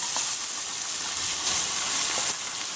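Venison chunks searing in hot oil for meat pies, a continuous bright sizzle and crackle holding steady throughout, close and fairly loud with no talking.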